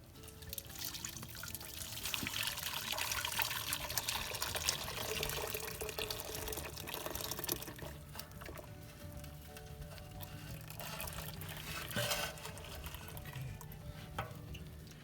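Hot maple syrup, boiled down in a backyard sugar shack, is poured through a filter into a pot, giving a continuous close trickling and splashing with faint clinks.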